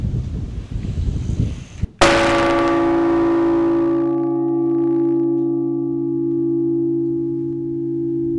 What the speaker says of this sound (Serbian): i Markovo zvono je ovde kod nas i evo zvoni već dobre 3 godine.